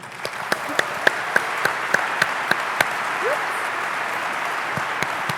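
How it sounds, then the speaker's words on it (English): Audience applause at the opening ceremonies of an authors' conference in Las Vegas, a steady wash of clapping with sharp periodic peaks, loud and close throughout. "So give them another big clap."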